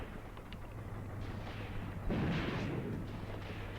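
Howitzer artillery fire in the World War II strategy game Graviteam Tactics, set around Kharkov 1942: a low, steady rumble with a deeper boom swelling midway, distant and muffled, with no voices.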